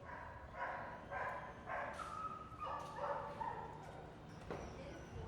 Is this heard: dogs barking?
yes